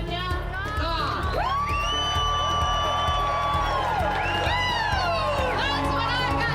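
A political rally crowd cheers loudly and continuously, with whoops and shouts rising over a steady, rhythmic backdrop.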